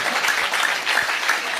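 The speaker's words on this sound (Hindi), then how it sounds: "तालियां बजा दो ताकि कविता में शुरू कर दो।" An audience applauds at a Hindi kavi sammelan poetry recital in Jaipur, a steady burst of close, dense hand clapping that fills the whole moment without voices.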